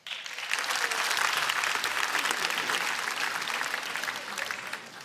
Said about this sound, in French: Merci d'applaudir Françoise Gérard